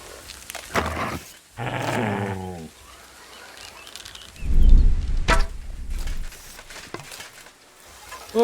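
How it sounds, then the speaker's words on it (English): A dog in Kingdom Come: Deliverance II growls low and rough for a couple of seconds. The growl sits among other game sounds, including short sharp effects and a whooshing passage. "Oh, poor dog."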